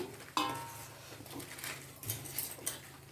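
A spoon stirs appalam pieces into vathakolambu gravy in a pot, with a sharp clink of metal at the start, then soft, irregular scrapes and clatters, quiet and close, with no talk.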